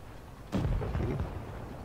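A tank cannon firing in the video game World of Tanks Blitz: one sudden heavy boom followed by a rumbling decay, with no one talking over it.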